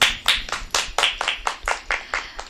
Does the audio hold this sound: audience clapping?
yes